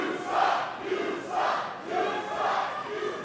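At the historic El Rey theatre in New Mexico, a crowd chants in three or four rhythmic swells, loud and reverberant, rising and falling about once a second.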